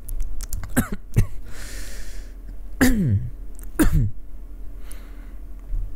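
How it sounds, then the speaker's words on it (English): A few sharp, close coughs and throaty bursts come in quick succession, with short pauses between them. "I legit coughed."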